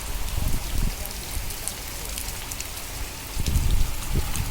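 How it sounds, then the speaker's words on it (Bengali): Steady rain pours down in a continuous hiss, with heavier bursts of drops pattering close by near the start and end. "ওপারে বৃষ্টি পড়ছে না বাট এইদিকে এখনও বৃষ্টি পড়ছে"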